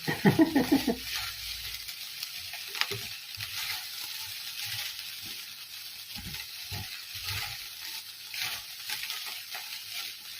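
Garlic fried rice stir-fried in a pan, with a few quick stirring scrapes at first, then soft continuous sizzling and patter close by.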